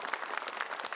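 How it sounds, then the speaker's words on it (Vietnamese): Audience applause at a Vietnamese stage show honoring a young host, steady dense clapping from a crowd filling the whole moment without pause. "cho Tùng một tràng pháo tay"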